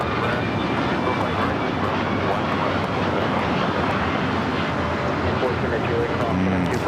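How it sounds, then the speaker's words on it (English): An Air Tahiti Nui Boeing 787 being pushed back at LAX, its engines giving a broad, steady jet roar that stays constant throughout, with faint voices in the background. "Air Tahiti Nui, 787 now pushing back."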